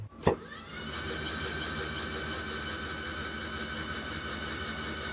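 A sharp click, then a Ford ST170 engine in a Mk1 Escort, spark plugs removed, spins over steadily with a smooth, even whirring drone that never catches, continuing unchanged at moderate volume.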